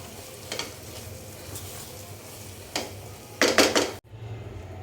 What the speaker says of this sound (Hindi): अब गैस को कर देंगे ऑफ और इसको एक बर्तन में निकाल लेंगे